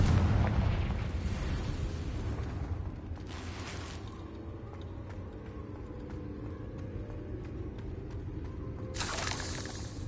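A Confringo blasting spell bursts in the Hogwarts Legacy game, a loud booming explosion at the start that rumbles and decays, followed by a second sharp blast later amid faint crackling, with no voices heard.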